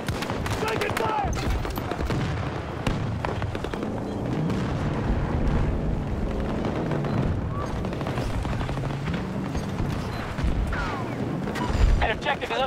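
Incoming gunfire and explosions pound continuously in Battlefield 2042 on the Kaleidoscope map, a dense loud barrage of rapid shots and booms with a voice talking over the chaos.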